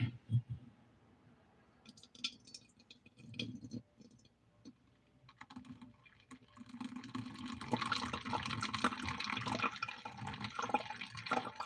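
Fresh apple juice is poured and strained in a kitchen, with soft handling clicks and drips at first, then a steady trickle of liquid running through a strainer for the second half.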